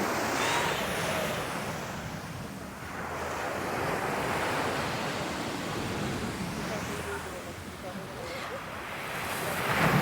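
Strong seaside wind blows steadily outdoors on a hot day, a loud continuous rush mixed with surf and buffeting against the microphone, with no clear talk in the wind.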